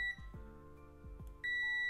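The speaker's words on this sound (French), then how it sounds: "Donc là ça bip d'un côté, vous entendez" A multimeter's steady continuity beep sounds while testing capacitors on a PS3 Super Slim console, cuts out for about a second while soft clicks tap, then the beep resumes.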